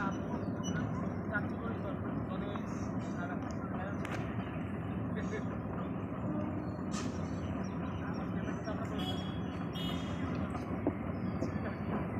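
A train rumbling over a railway bridge, heard from a wooden hanging bridge at Kunti Ghat, a constant heavy roar with occasional metallic squeals and clanks, with faint voices mixed in.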